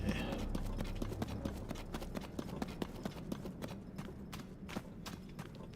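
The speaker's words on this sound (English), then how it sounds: "Or you can use a horse, of course." Horse hooves at a gallop in The Legend of Zelda: Tears of the Kingdom, a quick, steady clip-clop drumming over a constant low rumble of game ambience, close and moderately loud with no voices.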